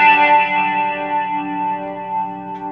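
A single sustained guitar chord from a song, ringing with chorus and distortion effects, steady and fairly loud, slowly fading with no other sounds.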